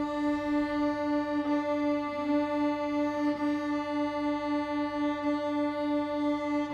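A sustained, steady string tone with a slow, regular wavering pulse in its loudness, as two close pitches beat against each other.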